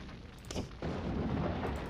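Units open fire in the Warhammer Dark Omen video game, a loud burst of cannon or gunfire booming into a sustained rumbling barrage.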